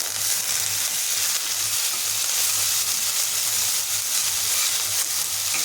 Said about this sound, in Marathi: जिरे, मोहरी, कढीपत्ता आणि कोथिंबीरची फोडणी करूया।